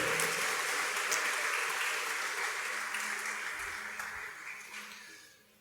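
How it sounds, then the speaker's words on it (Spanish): A church congregation breaks into applause, a dense, steady wash of many hands clapping together that carries on at an even level before thinning and fading away toward the end. "Aplauda al Señor."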